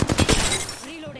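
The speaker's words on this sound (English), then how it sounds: "I broke her shield" An enemy shield breaking during an Apex Legends ranked match, a short burst of shattering crunches over rapid gunfire, close and loud, then fading into game ambience.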